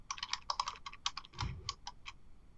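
Typing on a computer keyboard while entering matrix commands in MATLAB, a quick run of about a dozen close, crisp key clicks in an uneven rhythm with a soft thump in the middle.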